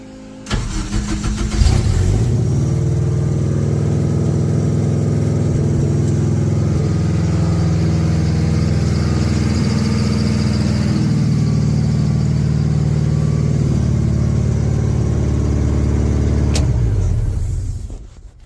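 A K-swapped rear-wheel-drive car engine starts and runs loud and close, a heavy steady droning rumble with slight rises in revs, ending abruptly when it shuts off after about sixteen seconds.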